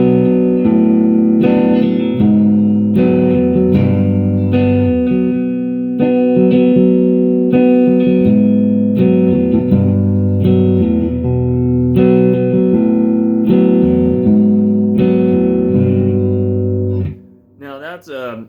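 An electric guitar with effects plays a minor chord progression, strummed chords and picked lead notes ringing loud and continuous, ending with a brief pause.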